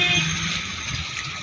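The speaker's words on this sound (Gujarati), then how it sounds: "રોડ ઉપર પાણી વહેતા થઈ ગયા છે, વરસાદ એટલો બધો આવે છે અમારે" Heavy rainwater flows across a road in Rajkot during a downpour, a close, continuous wash of hissing, splashing water with no voices.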